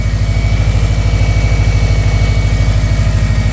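Subaru engine idling with a steady low-pitched pulsing rumble through a pass-through muffler, loud and close, with an even throb that stays constant throughout, no voices.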